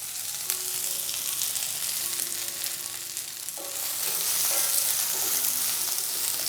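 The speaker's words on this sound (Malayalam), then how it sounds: "മസാലക്കൂട്ടും ചേർത്ത് കൊടുത്തതിന് ശേഷം വീണ്ടും നല്ല രീതിയിൽ എല്ലാം ഒന്ന് വഴറ്റി കൊടുക്കാം" Okra with ground masala sautés in a pan, a dense continuous sizzle and hiss that grows louder midway as the mixture is stirred, with soft scraping underneath.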